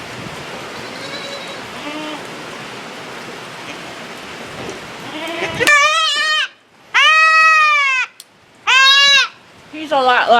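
A baby goat kid bleats loudly during ear tagging, with three long, strident, close calls after a stretch of rustling handling noise, and a fourth cry starting at the end.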